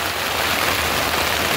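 Heavy rain falls steadily in Mudkhed near Nanded, a dense unbroken hiss of downpour on surfaces with no pauses or voices.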